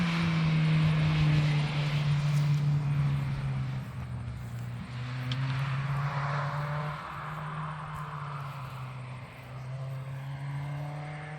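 A car drives uphill at a hillclimb event, its engine holding a steady, moderately distant drone that slowly rises and falls as it climbs, with no talk over it.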